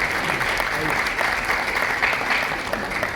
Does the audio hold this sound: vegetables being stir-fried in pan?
no